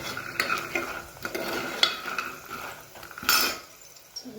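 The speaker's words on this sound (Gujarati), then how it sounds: "થોડી આગી પાછી શેકવાની છે એમાં ગેસે 2 થી 3 મિનિટ સુધી શેકી લઈએ" Ingredients roasting and frying in a pan over a gas flame, with steady quiet sizzling and a few clinks and scrapes of stirring throughout.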